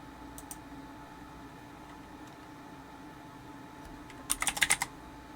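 A brief burst of quick keystrokes on a computer keyboard, several close crisp clicks in rapid succession after a stretch of quiet room tone, with no one talking.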